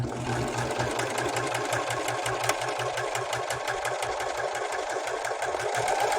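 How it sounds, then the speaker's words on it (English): A serger sewing machine runs with no fabric under the foot, forming a thread chain, a steady rapid mechanical chatter with rhythmic knocking pulses, close and continuous without talk. "Start serging and make that initial chain."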